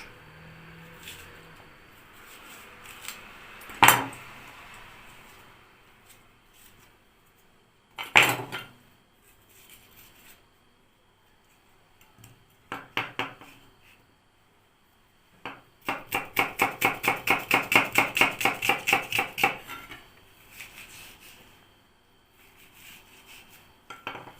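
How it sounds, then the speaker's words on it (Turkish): A knife chopping vegetables for fish soup clacks on a cutting board in scattered bursts, ending in a fast, steady run of chops, with occasional utensil clatter. "sebzelerimi doğradım"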